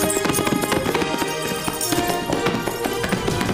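Horses' hooves clip-clopping amid a dense, busy soundtrack with music and commotion, a steady run of close hoof taps through the whole stretch.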